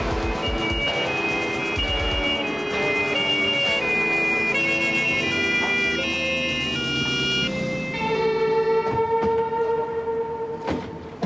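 A police patrol car siren in a 1987 German crime drama, its wailing tone running steadily across the scene and rising clearly over a dense layer of musical score and other background sound, with no talking.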